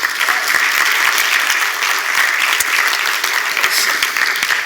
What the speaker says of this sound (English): So big round of applause for Joseph again.